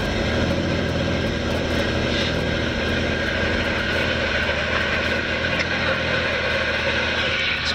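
Inside the cockpit of a Robinson R44 helicopter on an airfield at startup, the engine drones steadily and the rotor blades beat continuously, loud and close, with a faint high whine and muffled talk underneath.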